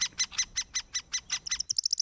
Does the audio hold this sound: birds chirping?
yes